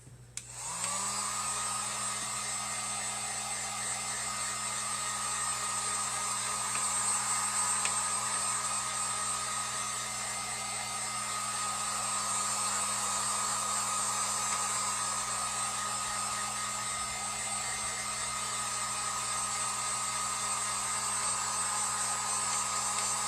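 Hair dryer blowing on wet paint on a cutout United States sign, a loud steady whooshing drone with a constant motor whine that runs uninterrupted for over twenty seconds.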